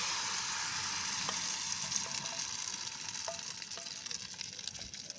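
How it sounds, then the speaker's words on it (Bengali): A lentil and egg batter fries in hot ghee and oil, giving a steady, bright, close sizzle with faint crackles and spatters throughout and no voices. "ঘি আর তেল ভালো করে গরম করে নিয়ে দিয়ে দিতে হবে ডাল আর ডিমের ব্যাটারটাকে।"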